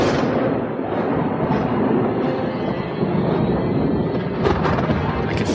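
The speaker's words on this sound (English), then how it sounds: "The roar of the thunder grew stronger." Thunder from a darkening storm in Paris, a continuous deep rumbling roar that fills the whole stretch at a loud, steady level with a brief sharper crack near the end.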